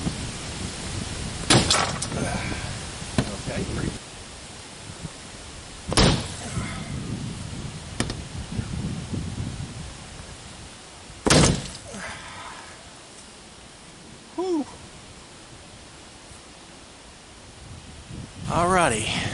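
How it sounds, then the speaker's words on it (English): A titanium sword strikes a car's window glass in a few sharp, loud impacts spaced several seconds apart, with people talking between the hits. "Let's see how well it does if it goes through the glass."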